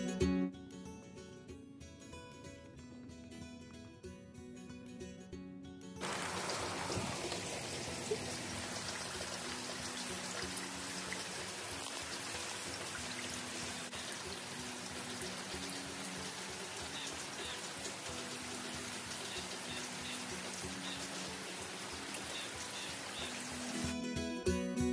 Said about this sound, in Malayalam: ഇന്നൊരു മഴ ദിവസമായിരുന്നു കേട്ടോ. രാവിലെ എണീറ്റപ്പോഴേ നല്ല മഴയുണ്ടായിരുന്നു.